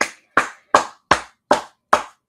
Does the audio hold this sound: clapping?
yes